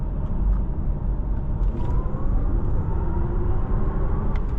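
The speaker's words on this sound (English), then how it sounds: "No problem at all accelerating in this e-tron" A 2022 Audi e-tron GT Premium Plus electric car accelerating from inside the cabin: a continuous low road rumble with a faint electric whine that rises gently in pitch.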